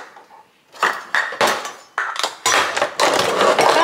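Metal measuring spoons clatter and clink close by as someone rummages through them in a kitchen, a series of bright, irregular jangling knocks that grow busier toward the end.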